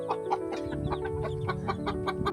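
Chickens kept as backyard pets cluck repeatedly in a close, busy chorus of short calls, layered over a steady low hum.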